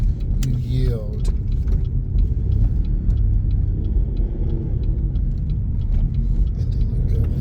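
A car pulls out slowly after yielding during a driving lesson, its low engine rumble and road noise steady throughout, with a person talking over it.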